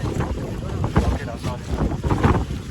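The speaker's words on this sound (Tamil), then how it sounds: "ஆமாங்க, செம காற்று." A strong wind buffets the microphone on the fourth hill of the Vellingiri mountain climb near Coimbatore at night, a loud, gusty roar rising and falling, with brief voices speaking beneath it.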